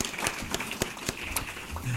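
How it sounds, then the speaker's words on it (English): Audience applause at an awards ceremony for event organizers, a dense burst of many hands clapping with crowd noise throughout, fairly loud and steady. "I'd like to give them a round of applause"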